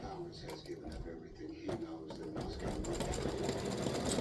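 A home embroidery machine stitches the cone part of a patriotic ice cream cone design in tan or brown thread, a steady rapid mechanical whirr that grows slightly louder and denser toward the end, with a few brief knocks.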